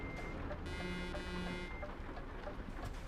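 Truck reversing beeps from the Euro Truck Simulator 2 video game sound as a steady, evenly spaced series, fairly faint against a constant engine and road hum.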